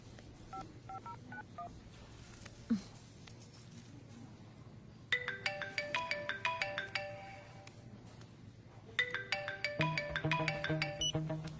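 A telephone gives out repeated electronic tone bursts, ringtone-like, in two long patterned runs over a steady low hum, with no one talking.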